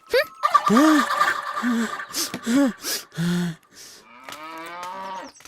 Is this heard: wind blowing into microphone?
no